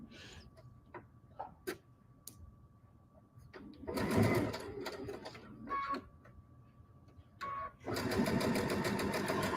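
A sewing machine stitches minky fabric in short starts, first a few scattered clicks, then two loud close bursts of fast needle whirring separated by quieter hand-turned ticks and pauses.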